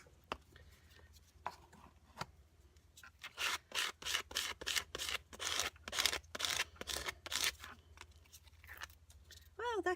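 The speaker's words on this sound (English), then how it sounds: "Scrape on paint though." Paint is scraped across a mixed media collage page in a quick run of short, dry, rasping strokes, close and distinct, building to a dense burst in the middle before trailing off.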